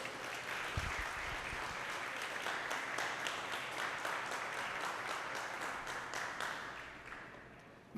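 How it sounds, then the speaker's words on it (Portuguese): A church congregation applauds at a worship service, a dense sustained patter of many hands clapping in a large room that fades slightly toward the end. "dá um aplauso a Jesus"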